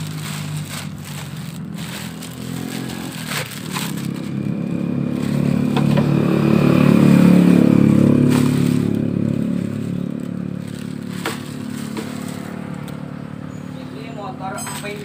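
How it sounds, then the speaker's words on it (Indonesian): A petrol motorcycle engine, a carbureted scooter, runs steadily close by with a low rumble that swells in the middle, along with some clattering and scraping while someone speaks over it. "motor bensin."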